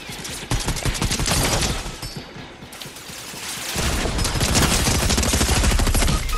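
Rapid bursts of automatic gunfire from a Fortnite match, dense and continuous through most of the stretch, easing briefly near the middle before resuming loud and sustained with no talk over it.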